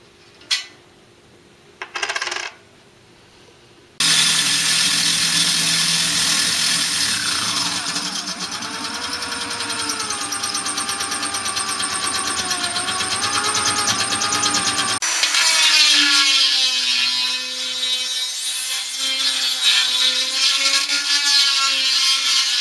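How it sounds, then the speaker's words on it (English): After a couple of brief taps, a power drill whirs loudly and continuously, its pitch shifting as it bores a hole through a heavy brewing and mash pot, then changes tone near the end. "that's where I'm going to drill my hole"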